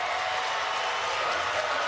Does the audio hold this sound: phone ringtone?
no